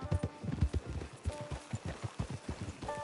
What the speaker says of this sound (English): There's the camp. It's your horse.